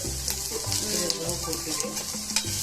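Garlic and spices sautéing in a pan for a spicy roasted gram chutney, a close continuous sizzle with frequent clattering stirs against the pan and a little background voice.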